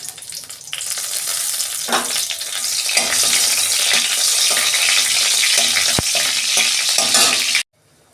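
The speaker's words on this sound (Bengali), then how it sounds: "ওই তেলে আমি শুকনো লঙ্কা ফোড়ন দিচ্ছি" Dried red chillies tempering in hot oil in a kadai give a loud, close, continuous sizzle with scattered crackles and pops, then cut off abruptly near the end.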